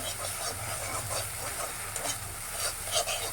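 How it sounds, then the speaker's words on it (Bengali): Green chilies being stirred through a sizzling mustard mash in a pan, a steady bright frying hiss with soft scraping and stirring strokes, close and continuous with no talking. "কাঁচামরিচ দিয়ে কিছুক্ষণ নাড়াচাড়া করবো।"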